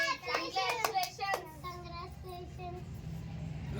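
A few people clapping for a child who won first prize in a family snack-making challenge, a short burst of close hand claps followed by children's voices talking.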